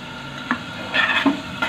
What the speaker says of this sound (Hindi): ये गरम मसाला पाउडर डाल के भी मैं इसे 2-3 सेकंड के लिए भून रही हूँ